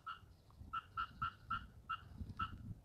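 Frogs croak after rain by a pond in a hydrangea garden in Osaka, calling in a steady series of about seven short, bright, evenly spaced notes over a faint low rumble, fairly close and alone without talk.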